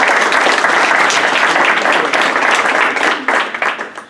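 Loud, dense audience applause after a panelist's remarks at a conference panel, a continuous roar of many clapping hands that starts to taper off near the end.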